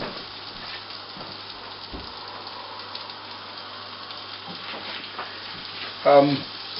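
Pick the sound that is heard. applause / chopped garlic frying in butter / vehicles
chopped garlic frying in butter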